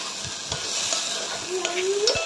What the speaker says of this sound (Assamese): প্ৰায় 3-4 মিনিট সময় এনেদৰে ভাজি লৈছোঁ ধুনীয়াকৈ আৰু গোটেইখিনি মিক্স কৰি লৈছোঁ ভেজিটেবলখিনিৰ লগত